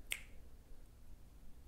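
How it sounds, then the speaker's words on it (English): A single crisp finger snap near the start, demonstrated during a talk on mindfulness practice, then a quiet room with faint low background hum and no speech. "Finger snap."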